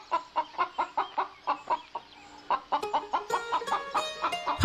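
A chicken in a Bengali cartoon clucks in a rapid, rhythmic series of short, bright clucks, pausing briefly before resuming more densely, loud and close with no talk.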